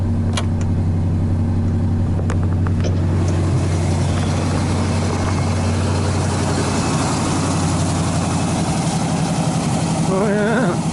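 A 1986 Chevy K-10 truck idles with a deep, steady low rumble close by, its tone sagging slightly as auxiliary lights draw on the electrical system, and a brief voice comes near the end.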